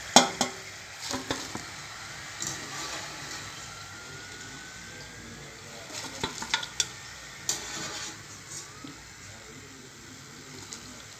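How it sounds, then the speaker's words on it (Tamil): Mini pooris fry in hot oil in a kadai, with a steady sizzle broken by scraping stirs and clinks of a utensil in bursts, close up and without talk. "இந்த மாதிரி நான் மீதி இருக்க மாவு எல்லாத்தையுமே ஃப்ரை பண்ணி எடுத்துகிட்டு வந்துக்கிறேன்"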